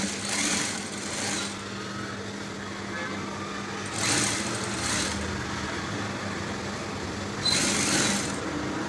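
Sewing machine stitching a waistcoat lining, running in three short loud bursts separated by quieter pauses, close by with faint background hum.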